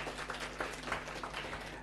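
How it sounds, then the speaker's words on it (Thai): Audience applause at a Nu Skin seminar on ageLOC R Square products: steady, dense clapping from a crowd, moderately loud and even throughout, with no pauses. "เสียงปรบมือให้กับ R Square และนักวิทยาศาสตร์ของนูสกินดังๆเลยครับ"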